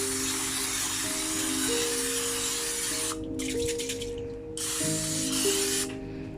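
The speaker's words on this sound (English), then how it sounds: "I'm going to use the spray" Two bursts of cooking oil spray hiss, each a couple of seconds long with a short pause between, close by, over a steady low hum.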